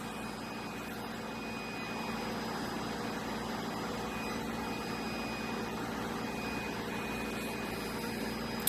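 A steady mechanical hum of an MBraun MB200 glovebox gas circulator running, constant low drone with faint tonal whine, unchanging and moderately quiet throughout.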